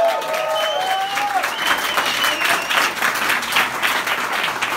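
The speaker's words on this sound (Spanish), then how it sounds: "así que un gran aplauso a Caradura." Applause from a crowd at a battle-of-the-bands contest, dense clapping with a few whistles at the start, sustained and fairly close throughout.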